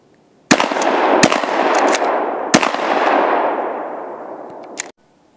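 A 12 gauge shotgun fires 3-inch slugs in a few loud, close blasts spaced about a second apart, each sharp report followed by a long rolling echo that slowly fades.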